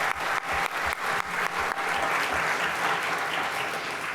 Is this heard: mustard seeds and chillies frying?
no